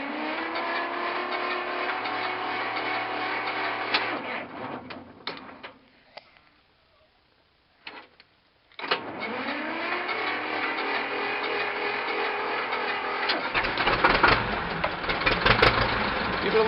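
A Belarus 250 tractor engine cranks on a cold start, a rhythmic mechanical churning that cuts out into near silence, then resumes cranking and grows louder and rougher toward the end.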